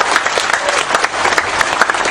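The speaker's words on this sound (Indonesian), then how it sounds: "Tepuk tangan untuk Pak Nevi" A crowd at a religious gathering claps for a musician, loud close applause with sharp individual claps in a brisk, dense patter and no speech.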